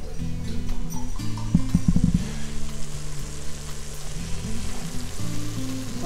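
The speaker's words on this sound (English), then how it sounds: "So it's just sauteing the beef here." Ground beef sautéing in a pan while a wooden spoon breaks it up, a steady close crackling sizzle with low kitchen hum and occasional scraping, no talking over it.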